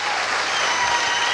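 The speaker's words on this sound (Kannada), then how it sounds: "ಈ ಚಪ್ಪಾಳೆ ನಮಗೆ ನಾವೇ ಹೊಡ್ಕೊಳ್ತಾ ಇರೋ ಚಪ್ಪಾಳೆ ಅಂತ ನಾನು ಭಾವಿಸ್ತೀನಿ" Audience applause fills a hall at a Kannada public lecture, a dense, steady wash of many hands clapping at once, loud and close, with no voices breaking through over the short burst.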